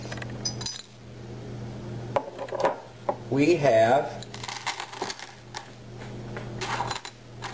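Shards of broken window glass clinking and rattling inside an old glass coffee jar used as a witch's bottle, a brief burst of bright chinks mixed in with a person talking.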